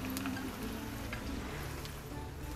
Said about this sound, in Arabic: هننزل بالانشوجه بزيتها يا جماعه زي ما هي.